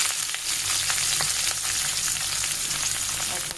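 Bay leaves, cinnamon, cardamom and cloves fry in oil in a wok, giving a dense, steady crackling sizzle close up with no voices.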